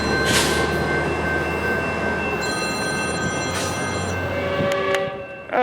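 A Metrolink commuter train rumbles steadily into Glendale station, with a horn sounding and bright squealing tones rising as it slows, loud and close with no talking.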